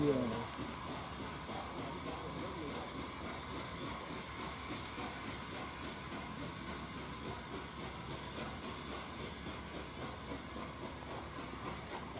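A steam locomotive on the Kent and East Sussex Railway accelerating up Wittersham Road, heard as a steady, distant rumble with hiss and rolling rail noise under continuous talking.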